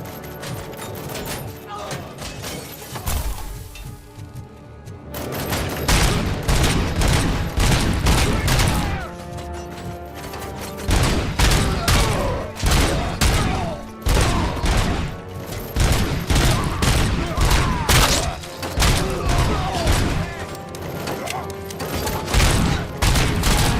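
Gunfire in a Robocop video game, sustained rapid volleys of shots in repeated bursts with brief pauses, loud and close, mixed with impacts and game effects.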